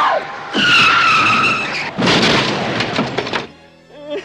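Tires screech loudly as a car skids out of control in a film scene, a long, harsh squeal followed by a burst of broadband rumble and clatter, then an abrupt drop to quiet.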